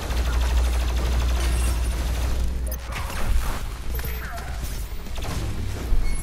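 Dense, continuous gunfire and heavy weapon blasts from DOOM Eternal during a fight with the Marauder, loud and relentless throughout, with booming thumps near the end.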